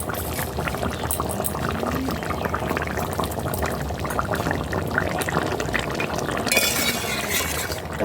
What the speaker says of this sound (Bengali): এবার এটা আমি ঢেলে নেব।